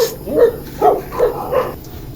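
A dog barks outside a small convenience store, four short barks spaced about half a second apart, moderately close, with no talking.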